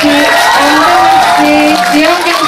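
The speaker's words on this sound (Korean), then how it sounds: "뜨거운 박수 부탁드리겠습니다" Audience applause greeting the director of the Korean film Mama at a cinema stage greeting, a dense continuous wash of clapping and crowd noise with voices and cheering mixed in throughout.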